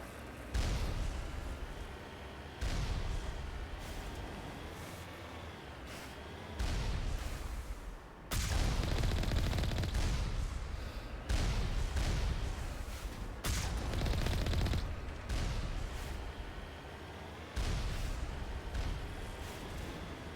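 Turrets being destroyed with gunfire in Mass Effect Legendary Edition, sustained booming bursts of heavy weapon fire in long rapid volleys separated by brief pauses, loud and close.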